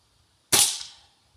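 A Gamo Whisper Fusion Mach 1 .22 air rifle fires a single sharp, loud shot at a wooden squirrel target outdoors, the crack decaying quickly over about half a second with no talk.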